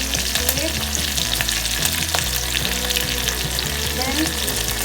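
Mustard seeds and curry leaves fry in hot oil for sambar, a dense continuous sizzle with crackling pops and bursts of spattering, close and loud, and no one speaking.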